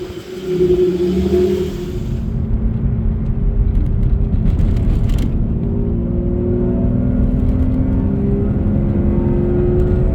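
BMW E30 with an M52 engine driving on the road: a steady, loud low engine drone and road rumble throughout, with a brief higher whine in the first two seconds, no voices.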